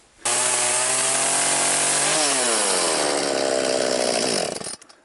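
A chainsaw cuts wood for a rustic outdoor table, starting abruptly, running loud and close with a steady whine that drops in pitch as the chain bites, then cutting off near the end.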